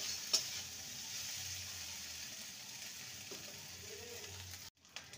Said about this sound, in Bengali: আদা রসুনকে ভালো করে কষিয়ে নিয়েছি।